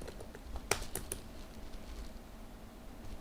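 Quiet computer keyboard typing, a brief flurry of clicking keystrokes near the start followed by sparse soft taps, close but faint.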